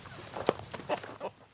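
A flock of backyard chickens, including newly added American breeds, giving soft close clucks and short murmurs in a brief scattered series.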